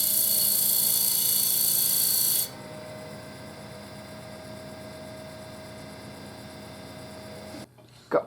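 A wood lathe spins a duck call piece with a steady motor drone and hum, louder at first and then lower while it keeps running, close by with no talk, before a brief knock at the end.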